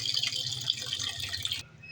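Tap water runs and splashes steadily while raw chicken and pork are washed for adobo, close and moderately loud, with a slight change near the end and no talking.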